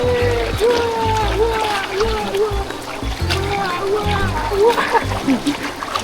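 Water splashed and sloshed by hand at a zoo outing, light irregular splatters under a child's and adult's constant chatter.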